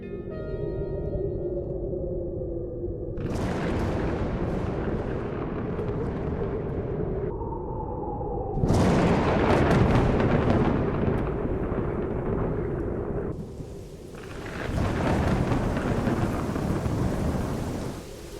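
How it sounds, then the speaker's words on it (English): Heavy rain pours steadily in a video game storm while deep rolling thunder crashes in several loud waves, some sharp and close, others duller and more distant. "changes the sounds of thunder, depending on how far away it is."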